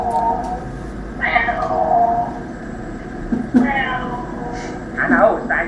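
A voice imitates a cat meowing, giving a few drawn-out, wavering meows at close range over a steady background hum, in a Nepali comedy performance.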